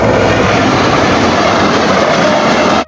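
A train passes close by on the railway line, a loud continuous rumble and rattle of wheels and wagons filling the whole stretch before cutting off abruptly at the end.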